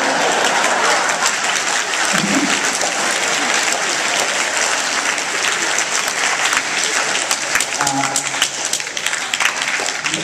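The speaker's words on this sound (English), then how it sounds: "Sarcastic clapping." A theater audience at the Castro Theater claps in sarcastic, sustained applause, a dense steady roar of many hands lasting the whole stretch with faint crowd murmur underneath.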